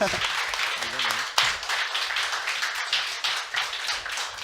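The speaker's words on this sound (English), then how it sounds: "Round of applause." A small group claps and applauds for a few seconds after an esports team's match win, dense and uneven, with voices chattering underneath.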